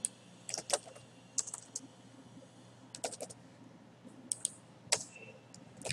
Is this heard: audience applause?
no